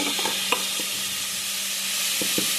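Tomatoes fry in a pan for rasam with a quiet, steady sizzle. A few sharp taps and scrapes from stirring are scattered through the short stretch, and nobody speaks.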